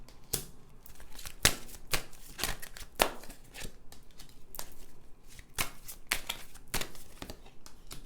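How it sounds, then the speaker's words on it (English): A deck of tarot cards is shuffled by hand, producing repeated crisp riffling and slapping bursts at an irregular rhythm, close and fairly quiet, with no talking. "now I'm going to shuffle these cards"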